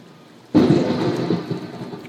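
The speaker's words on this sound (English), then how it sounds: "raining all night long, storming all night long," Heavy thunderstorm with rain in New Braunfels, Texas, after a night of storms: a sudden loud rumbling crack of thunder about half a second in, rolling on and slowly fading over a steady wash of rain.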